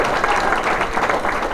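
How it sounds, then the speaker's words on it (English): A crowd applauding at a political gala, dense continuous clapping that fills the short moment at steady strength. "please give Dee Dee another round of applause."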